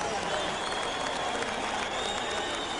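Arena crowd applauding and cheering after a knockout in the sixth round of a Roy Jones Jr vs Vinny Pazienza boxing match, a dense steady roar of clapping filling the hall throughout with an announcer's voice faintly mixed in.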